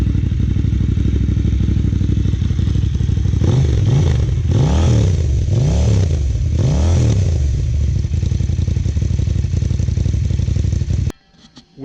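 KTM 790 Adventure R motorcycle with a Wings slip-on exhaust, fitted with only the catalyzer, revving loudly up close: a steady idle broken by four or five sharp throttle blips rising and falling, then cutting off abruptly near the end.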